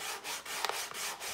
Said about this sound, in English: we just gotta sand down the rough edges from the Dremel with some sandpaper